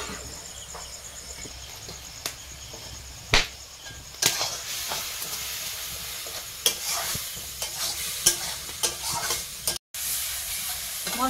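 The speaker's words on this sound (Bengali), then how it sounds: "মশলাটা কষিয়ে নিয়েছি, এবারে দিয়ে দেবো মাংসটা" Spice masala of tomato, cumin and coriander powder sizzles and fries in a pan with constant crackling, broken by occasional sharp scrapes and clanks of a spoon stirring against the metal.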